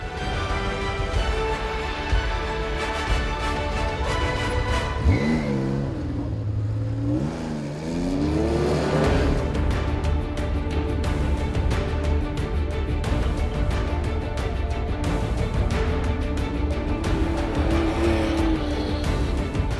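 Rally cars race over rough terrain at the East African Safari Rally, engines roaring loud and continuous with revving and a pass-by swell midway, with no talk.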